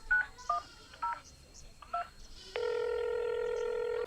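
A telephone number dialed by keypad, four short separate tone beeps in an uneven rhythm, then a steady continuous ringing tone that carries to the end, clear and close.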